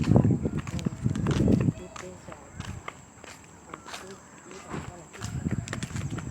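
Footsteps patter along at a quick, uneven pace, loud at first and again near the end, with an adult voice talking over them.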